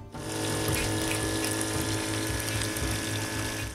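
A small replacement coffee-maker water pump runs continuously in a DIY tabletop terrain waterfall, a steady loud mechanical hum blended with splashing, trickling water, close and constant with no talk.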